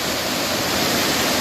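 Waterfall at Ricketts Glen State Park, a steady, full roar of falling water that fills the whole clip evenly, close and loud with no break or variation.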